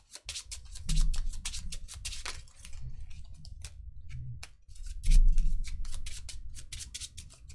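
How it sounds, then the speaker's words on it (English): A deck of Keyforge cards is riffled and shuffled at a tournament table, giving rapid crisp flicks and ticks in two bursts with soft thumps as the cards settle. No one speaks. "The shuffle's in."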